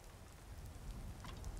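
Rain falls in the video game Skyrim while walking through the landscape, a faint, even patter and hiss with scattered soft drop sounds throughout.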